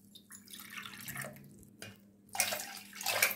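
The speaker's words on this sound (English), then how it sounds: "Now I'm going to add another 2 glasses of water." Water is poured in uneven trickles and splashes into a pot of drumstick leaves soup, quiet and close, with brief pauses between pours.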